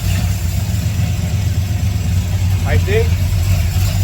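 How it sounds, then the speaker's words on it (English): A big-block 1958 GMC pickup fitted with FAST fuel injection idles at about 850 rpm, a loud steady low rumble close by, while someone briefly speaks over it. "We're idling at about 850, which is our target."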